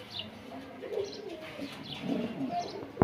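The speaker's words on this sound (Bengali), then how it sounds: "একজোড়া খুবই আনকমন কবুতর রেডলেস ব্লন্ডিনেট" A pair of Redless Blondinette pigeons coo softly nearby in a series of low, rolling calls with faint chirps, ending in a brief sharp knock.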